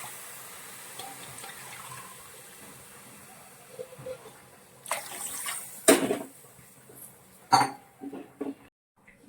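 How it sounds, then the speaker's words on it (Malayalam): Four glasses of water are poured into a cooking pan to boil for coconut upma, making a few short splashing bursts that rise over a quiet kitchen background. "എത്രത്തോളം പൊടി എടുക്കുന്നോ അതിൻ്റെ ഇരട്ടി വെള്ളം ചേർക്കും ചേർത്ത് തിളപ്പിക്കണം"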